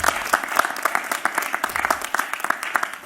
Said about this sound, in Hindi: जोरदार तालियों के साथ इनका स्वागत कीजिए